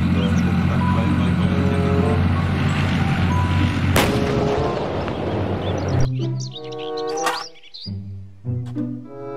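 A toy steel tank plays a long, loud rumbling battle effect with a sharp blast partway through, then switches to a bright electronic melody of beeps and chirps.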